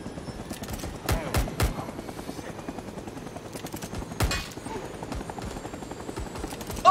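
Helicopter in the Rising Storm 2 war game, a steady rotor and engine rumble running throughout amid sharp bursts of gunfire, with a few loud cracks near the start and middle.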